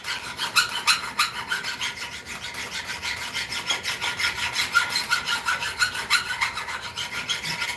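A hardness-testing file rubbed repeatedly across a metal workpiece held in a vise, a fast, even series of gritty rasping strokes, close and continuous with no talk.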